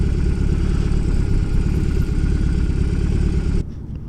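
BMW motorcycle engine droning at higher RPM while riding under engine braking, a loud steady rumble that suddenly drops away near the end.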